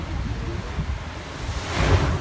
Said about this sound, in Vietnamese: cái luồng nước biển từ ở dưới ngoài biển đánh vào hang động